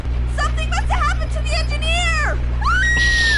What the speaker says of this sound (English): You should not be able to scream over the sounds of a roaring train.